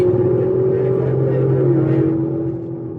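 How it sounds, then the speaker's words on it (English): Two V8 muscle cars, a Dodge Challenger and a Camaro, race on a street, producing a loud, steady engine drone with a deep low hum that holds level and then eases slightly toward the end, heard alone. "He's pulling over the Challenger, and you can hear the V8s get to going"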